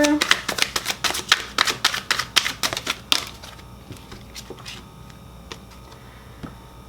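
Tarot cards shuffled briskly in a run of sharp, evenly spaced riffling snaps for about three seconds, then a few softer scattered clicks as cards are pulled, close to the listener.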